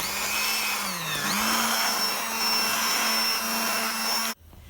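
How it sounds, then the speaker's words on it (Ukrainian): A blender motor whirs steadily at high speed pureeing a cooked tomato mixture for homemade ketchup, pitch dipping briefly as it bogs down, then running on evenly before cutting off abruptly. "І блендером масу цю перебиваємо."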